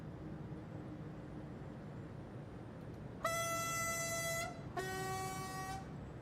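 A Deutsche Bahn train horn sounds in a train simulator game, two long sustained tonal blasts with a short gap between, loud over a low steady engine hum.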